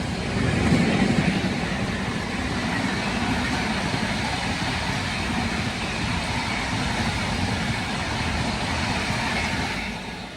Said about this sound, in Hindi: यहाँ पे झारखंड एक्सप्रेस ओवरटेक कर रही है अपने को